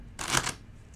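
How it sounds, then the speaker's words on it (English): A deck of playing cards gets a single closed riffle shuffle, one quick crisp fluttering burst of about a third of a second, near and clear against a quiet background. "Do a closed riffle shuffle,"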